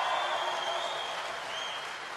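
A large crowd applauds at a 2012 Mitt Romney campaign rally in Cincinnati, Ohio, sustained clapping and faint cheers filling the space evenly from start to finish, with no talking on top.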